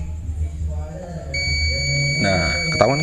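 A steady electronic continuity tone from a multimeter sounds as a motorcycle charging coil is probed, with someone talking over it throughout.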